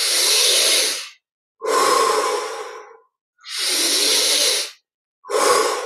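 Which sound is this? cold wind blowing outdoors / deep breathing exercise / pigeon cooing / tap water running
deep breathing exercise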